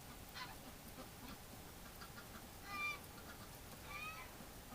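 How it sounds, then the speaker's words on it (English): Wild ducks call out on a winter hunt, with two short honking quacks at a distance over a steady outdoor hiss, one around the middle and another near the end. "The ducks keep coming in"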